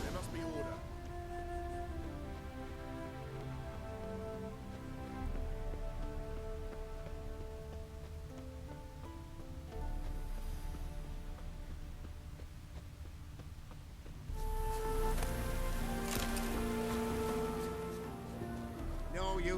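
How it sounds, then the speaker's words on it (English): Steady rain falls in the video game The Witcher 3 as a soft, constant patter beneath game music and spoken dialogue. "No use doing any work in this rain."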